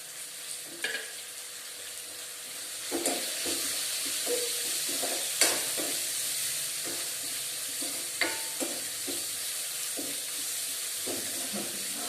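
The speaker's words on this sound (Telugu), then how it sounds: "సాల్ట్ యాడ్ చేయడం వల్ల తొందరగా ఆనియన్ ఫ్రై అవుతుంది" Onion fries with salt in a pan, giving a steady soft sizzle, with occasional stirring clinks and scrapes at irregular intervals and no voices.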